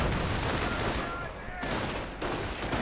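Dense, continuous gunfire and explosions from an assault in a World War strategy video game, loud and sustained with brief dips, heavy fusillade rolling throughout.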